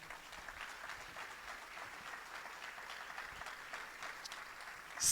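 A church congregation applauds steadily, with a dense, even patter of clapping that holds at moderate level and swells slightly at the end.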